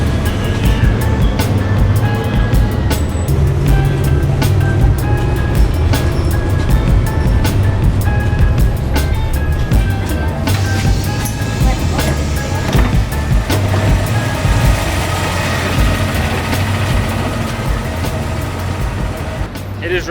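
Loud, steady rumble of a city bus ride through Vallarta, with engine drone and road noise running continuously and occasional rattles, while people talk over it.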